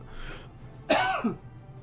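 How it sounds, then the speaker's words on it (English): A single harsh cough bursts out close by, followed by a short throaty rasp as it trails off. "That cough snuck up on me."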